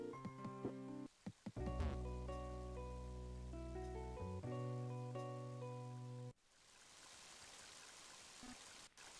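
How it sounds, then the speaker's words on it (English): Heavy rain in the video game Mother 3 hisses as a steady wash of noise after a stretch of chiptune music ends, the downpour continuous and fairly faint. "Muddy rain, heavy rain, isn't it?"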